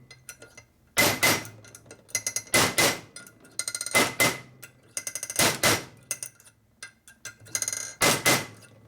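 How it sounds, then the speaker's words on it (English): Hammer peening metal on a 1983 Harley FXRT 80ci Shovelhead engine part during a top-end rebuild, with sharp ringing blows in doubled and clustered bursts separated by short pauses, close and loud. "Then you peen the piss out of it."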